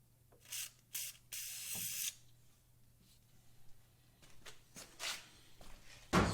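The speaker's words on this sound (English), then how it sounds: "Spray everything, put her back in." A few short hissing sprays from an aerosol can, close up, during a headlight bulb replacement on a Ford F150 (2009–2014), separated by pauses over a low steady background hum.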